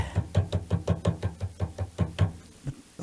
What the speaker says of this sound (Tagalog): Parang may kumakatok